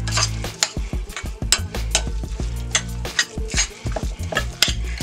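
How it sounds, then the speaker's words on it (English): A spoon stirs a tuna melt mixture in a bowl, scraping and clinking close up in a steady run of strokes, with no talking. "we're going to mix that up in there just a little bit"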